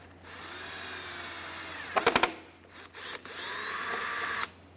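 A 3.6 millimeter drill bit bores into the mirror of a 2004-2008 Ford F-150 during a turn signal replacement. The drill gives a short stuttering burst, then a brief second burst, then a steadier whine lasting about a second, all close up.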